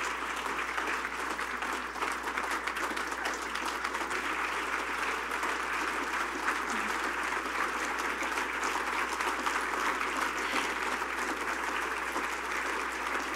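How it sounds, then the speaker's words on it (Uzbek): A whole hall of people rises in a standing ovation at the 2019 Freedom Award ceremony, their applause a dense, sustained roar of clapping that holds steady at a moderate distance. "butun zaldagilar o'rinlaridan turib qizg'in olqish yog'dirdi"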